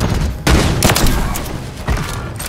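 Intervention sniper rifle shots in a first-person shooter video game: three loud, sharp booming reports spaced about a second apart, each with a short ringing tail, with no voices over them.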